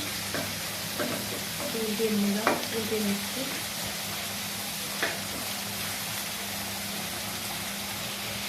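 Quiet steady sizzling of onion frying in a pan, with a few soft stirring scrapes and clinks, low hum in the background.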